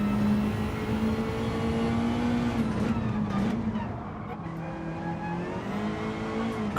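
A McLaren race car engine in Gran Turismo 7 holds a steady droning note through shifting revs, loud and continuous, with no voices.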